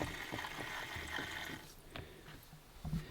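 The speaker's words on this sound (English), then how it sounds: "Water came through." Water runs into the bowl of a newly installed Horow T38 smart toilet, a close, soft rushing that holds for under two seconds, then thins to faint trickles and small drips.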